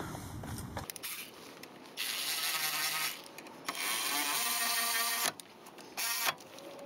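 Brake caliper bolts on a Mitsubishi Lancer's front brakes are tightened with a ratchet, giving several bursts of rapid clicking separated by short pauses, close and fairly quiet.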